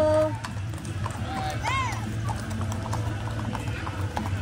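Horses clip-clopping along at a park during a New Year charity run, steady hoof beats at moderate distance beneath nearby talking voices and brief exclamations.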